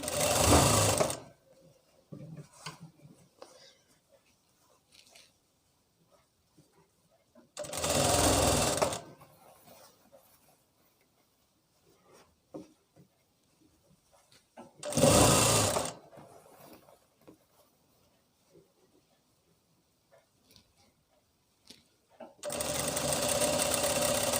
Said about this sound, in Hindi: यहाँ से डबल सिलाई कर लेंगे।